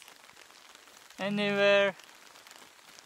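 Rain falling in the Zambian bush, a faint steady patter on surfaces that runs throughout, briefly covered by a single spoken word near the middle.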